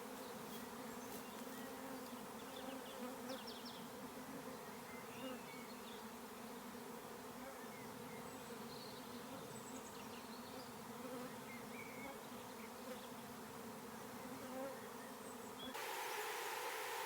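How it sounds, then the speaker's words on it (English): A swarm of honeybees buzzes steadily around a hive box, a dense continuous hum close by that stays loud throughout, with a brief rise in level near the end. "In the middle of the swarm."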